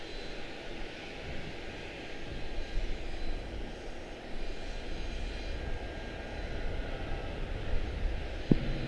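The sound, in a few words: Delta airliner taxiing for departure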